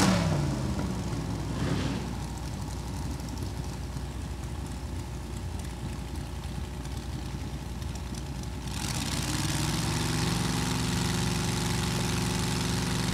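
A 355 Chevy motor in a drag racing car idles steadily at a hot rod reunion drag strip, a continuous low rumble that grows fuller and louder partway through, with no talk.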